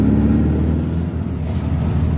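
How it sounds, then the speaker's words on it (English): A car's engine drones close and steady with a low, rumbling pulsing throb that wavers slightly as it runs, an odd mechanical noise with no talking over it. "So my car's making this weird noise."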